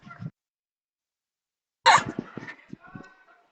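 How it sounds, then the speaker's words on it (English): A single short, sharp cough bursts out after near silence, followed by a brief rattle of smaller sounds trailing off. "Had a little cough."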